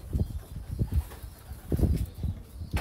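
Homing pigeons being shipped to Wasit, Iraq, give low repeated coos in short soft pulses, close by and fairly quiet, with no talking over them.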